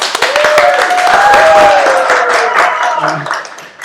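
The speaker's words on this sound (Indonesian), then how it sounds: "Tepuk tangan dong." An audience at an urban design talk gives a brief round of applause for a guest, with clapping under a speaking voice that fades toward the end.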